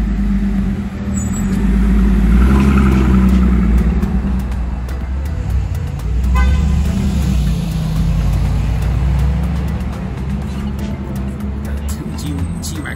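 Supercars and other traffic move along a London street. A steady low engine rumble swells and fades, with voices talking over it.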